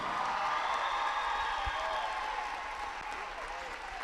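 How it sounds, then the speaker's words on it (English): At a girls' high school basketball regional championship, the crowd gives a sustained, moderately distant round of applause for a player in a large gym, fading slightly toward the end. "Give it up for another big applause"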